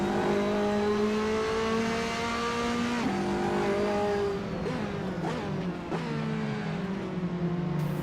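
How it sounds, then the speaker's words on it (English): A Ferrari 458 GTLM race car in the Assetto Corsa racing game, on the Daytona road course, roars loud and up close, its engine note climbing and dropping through quick gear changes, with brief tire squeal and no talking. "Arguably the best sounding stock car in the game."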